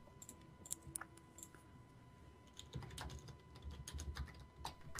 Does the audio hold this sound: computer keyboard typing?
yes